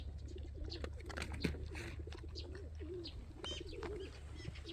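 Pigeons or doves coo repeatedly with scattered chirps in a forest, under a steady low rumble and faint background sounds, with no talking.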